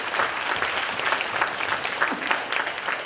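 Sustained audience applause in a church fills the room with steady, dense clapping from a congregation, even and continuous throughout without a break.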